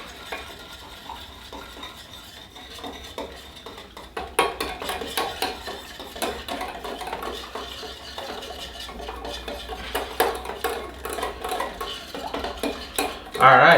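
A spoon clinks and scrapes steadily in a bowl, stirring barbecue sauce with a tablespoon of cornstarch mixed in, close up and fairly busy, with no one talking.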